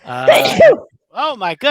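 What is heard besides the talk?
person sneezing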